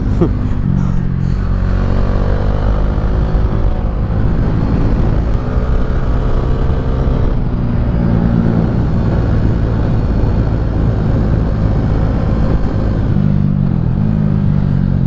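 A Bajaj Dominar 400 motorcycle ridden hard around a race track in Thailand, its engine droning loud and close throughout with rising and falling revs through gear changes, steady and unbroken across the whole stretch.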